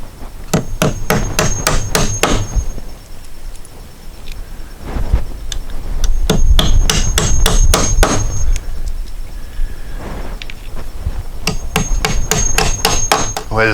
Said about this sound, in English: now I just got to fill up all the nail holes again with joist hanger nails